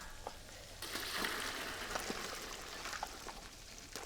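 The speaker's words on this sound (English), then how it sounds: "I'm just going to strain it right here." Corn and lobster stock is poured through a strainer from a big pot, a soft steady splashing and trickling with a few sharper drips, fairly quiet and close, with no voices.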